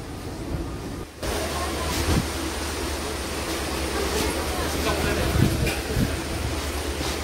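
The Kanchankanya Express pulls out of Sealdah station at night, a steady low rumble of wheels and carriages rolling beneath faint voices, with a brief dip before the noise settles into continuous motion.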